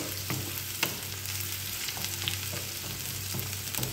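Onion frying in a pan makes a continuous close sizzle with scattered crackles and spatter pops, a steady busy hiss throughout with no talking.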